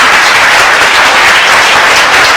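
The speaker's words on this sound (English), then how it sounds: "So clap and tell me no." An audience at a talk claps loudly and steadily, a dense continuous patter of many hands close by with no speech over it.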